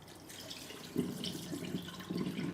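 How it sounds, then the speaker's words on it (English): Tap water runs while rice is rinsed by hand in a bowl, a quiet steady trickle with soft splashing bursts as the grains are swirled, close and alone without talk. "rinse the rice with water a few times until the water runs clear"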